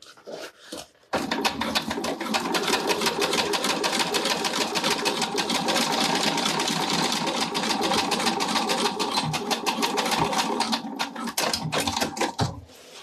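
A sewing machine runs steadily for about twelve seconds, stitching a seam on a zippered fabric pouch with the needle set to the far left position; its close, fast mechanical whir starts abruptly and then slows near the end.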